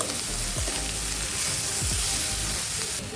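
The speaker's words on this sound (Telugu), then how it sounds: "ఇప్పుడు ఇందులోకి ఉడికించి పెట్టుకున్న కాబూలి శనగలు వేసుకొని హై ఫ్లేమ్లో ఒక టూ మినిట్స్ ఫ్రై చేసుకోవాలండి" Boiled kabuli chickpeas frying on high flame in a pan, a loud, steady dense sizzle with a few scraping stirs, close and continuous with no talking.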